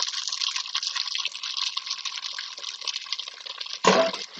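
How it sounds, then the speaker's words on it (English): Tap water pours steadily into a bowl in a kitchen sink, a continuous close hiss and splash, ending in a louder splash and clatter. "So fill this up with water."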